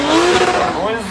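A drift car launching at a motorsport competition, its engine revving loud and close with a strained rising tone and harsh roar, a voice talking over it throughout.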